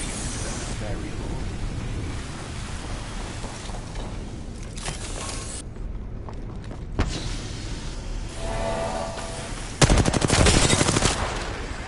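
Gunfire in Apex Legends: steady rattling automatic fire with scattered shots and effects, then a loud close burst near the end, with voices talking over the action.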